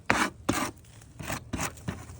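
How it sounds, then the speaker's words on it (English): A sharp blade scraper rasps across an exterior window frame, stripping old paint and putty in five rhythmic strokes, close up and moderately loud, with no talking. "So I do the majority of my scraping with this, but you could use the carbide most of the time."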